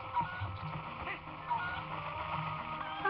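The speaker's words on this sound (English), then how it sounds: "Chickens!" Chickens in The Legend of Zelda: Twilight Princess make game-style poultry calls, honking and clucking, repeating over a steady background hum, with short bright chirps scattered through.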